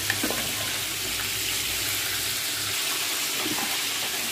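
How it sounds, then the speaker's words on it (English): Steady broadband sizzling and crackling of chicken frying in a pan, continuous throughout with some faint clatter. "if you're hearing a sound over there, I am frying some chicken"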